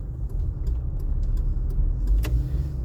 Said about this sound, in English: Oh, there's lots of cars down here today.